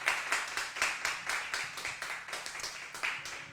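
A church congregation claps together in a steady, rhythmic beat of sharp, fairly close claps, repeating evenly for several seconds with no talking over it.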